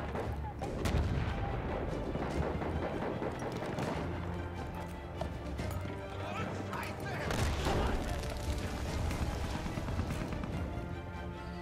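Rifle and gunfire in the World War I shooter Battlefield 1 during a team deathmatch, repeated sharp shots and distant bursts crackling steadily, with a speaking voice under the battle noise.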